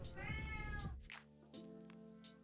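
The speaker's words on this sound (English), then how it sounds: "I don't know if you guys can hear Wilbur meowing in response" A pet cat meows clearly in a home, a drawn-out harmonic call followed by shorter faint meows against a steady background hum.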